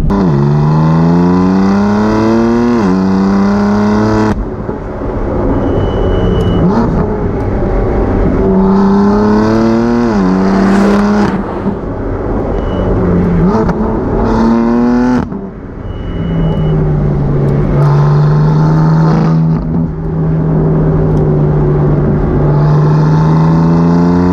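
A BMW M4 CS engine hums and rises steadily while driving with the windows open, revving up and easing off in waves, loud and close throughout.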